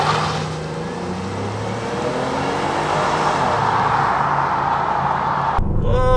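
A 2015 Chevy Impala front-wheel-drive sedan is floored from inside the cabin. The engine roars loudly and steadily as it climbs, a dense continuous drone that cuts off abruptly near the end.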